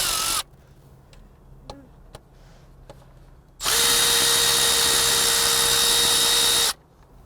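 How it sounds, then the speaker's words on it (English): A power tool removes the steering-wheel bolts on a 2009-2021 Nissan 370Z during a swap to a carbon fiber wheel. After a few quiet ticks comes one loud, steady whirring burst of about three seconds that then stops abruptly. "we're gonna start taking off the bolts from the steering wheel to transfer it over to the carbon fiber one"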